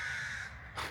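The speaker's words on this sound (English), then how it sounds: "there was all these crows" Crows caw in a park in Würzburg, Germany: a clear, fairly near call followed by a second short caw, with no talking.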